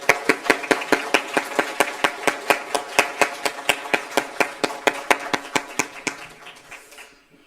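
A church congregation at a Korean worship service clapping in unison in a fast, even rhythm of sharp, loud claps that runs for about seven seconds before stopping abruptly.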